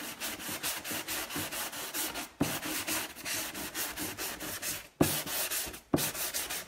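A wooden picture frame is rubbed with a sanding block in rapid, even back-and-forth strokes, close and loud, briefly paused a few times between bursts.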